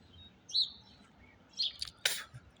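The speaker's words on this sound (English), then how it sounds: "Go back and listen to this video, and you listen to the birds only." Birds in an open field give a few short, thin chirps and tweets, faint and spaced apart over quiet background noise.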